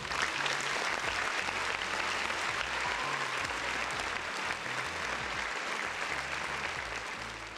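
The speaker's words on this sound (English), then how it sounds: "Round of applause for everybody in the chat." Steady applause from a chat audience after a gaming talk show episode, dense and continuous throughout without a break, with a low drone of background music underneath.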